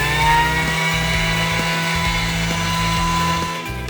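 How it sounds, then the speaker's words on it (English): A Thermomix TM6 grinding sugar into powdered sugar at speed 10, a loud steady high-pitched motor whine that holds for several seconds before easing slightly near the end. "you're going to set your Thermomix to speed 10 for 10 seconds"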